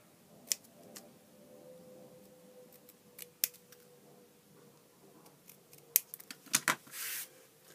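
Scissors cut through card for a sailing boat swing card: scattered faint snips and clicks, then a cluster of sharper close cuts near the end, with quiet room tone between.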